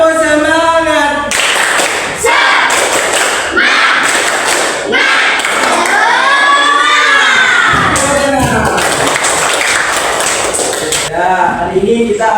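Schoolchildren in a classroom perform a rhythmic clapping chant before a lesson, with loud group claps and thumps in a patterned beat and excited shouted voices throughout, close and lively.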